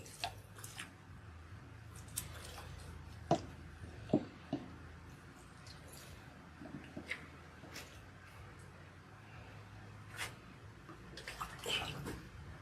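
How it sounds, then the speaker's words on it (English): Water rinsing through hair during an oil rinse, a faint continuous splashing flow with a few soft drips and squishy clicks, close by and without talk. "Now we are rinsing."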